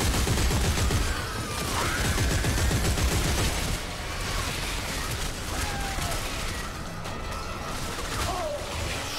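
Dense gunfire from Dead Space 3, a steady loud barrage of shots over a busy game soundscape with music-like tones, while a player talks intermittently.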